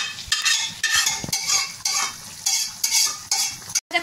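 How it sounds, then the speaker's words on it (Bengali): Mutton curry being stirred and sautéed in a kadai, loud rhythmic metal scraping of a spoon against the pan repeating about twice a second over a low sizzle, close up. "এখন ভালো করে কষানো হচ্ছে"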